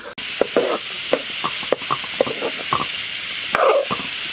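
Papaya thoran cooking in a pan on a low flame, a gentle steady sizzle broken by repeated light scrapes and clicks of stirring.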